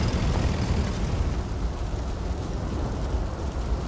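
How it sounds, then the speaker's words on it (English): Continuous rumbling explosions from a MiG airstrike in the Yuri's Revenge strategy game, a dense, steady roar of blasts with heavy low end and no clear gaps, loud throughout. "Airstrike confirmed."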